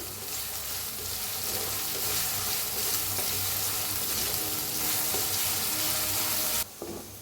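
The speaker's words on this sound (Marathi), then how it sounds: "कांद्याला चांगलं भाजून घेऊया आपण" Onions frying in a pan for an eggplant dish, a steady loud sizzle with stirring that runs throughout before cutting off abruptly near the end; no voices.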